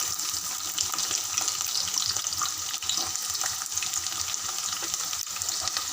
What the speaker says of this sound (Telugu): సాజీరా వేసుకున్నాక ఉల్లిగడ్డలు పచ్చిమిరపకాయలు వేసుకోవాలి.